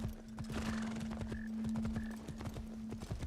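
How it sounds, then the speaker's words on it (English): A horse in the Assassin's Creed Shadows video game trots with steady clip-clop hoofbeats under a continuous game hum, neighing briefly a couple of times at mid-distance. "Come to me, horse. We ride and run over people."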